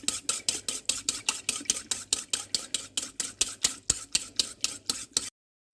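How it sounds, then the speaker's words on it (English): Melted tallow and lye for soap being whisked by hand in a pot after a day on low heat: a steady run of about twenty rapid, bright scraping strokes in even rhythm, close and clear, then abrupt silence. "Now I will whisk it."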